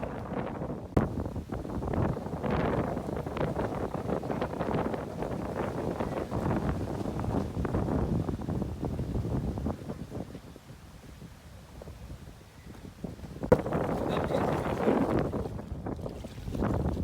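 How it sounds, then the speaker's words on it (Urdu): Strong wind roars steadily over the Chenab river during a dust storm, a continuous broadband rush with gusty swells that dip briefly and then rise again, with no talk. "ہوا بہت تیز چل رہی ہے"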